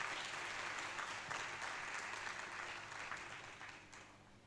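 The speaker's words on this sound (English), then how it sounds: "let's give them a round of applause for the good work." Audience at a law students' association grand launch event in Kenya applauds with steady, even clapping that gradually fades over several seconds, heard from a distance and fairly faint.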